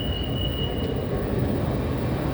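A Bangkok MRT underground train rumbles along at a steady, loud level, with a constant low roar and a thin wheel whine near the start, heard from inside the carriage.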